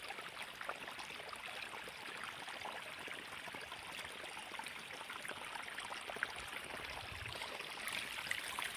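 Irrigation water runs from a pipe into a wheat field with a faint, continuous rushing and trickling that stays low and even throughout, with no speech.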